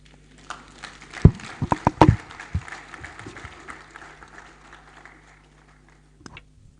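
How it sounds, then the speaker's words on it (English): Audience applause at a university college orientation programme for sandwich students, a short burst of clapping with a few sharp loud claps, tapering off over several seconds, with a faint late clap near the end. "A better round of applause for the acting registrar."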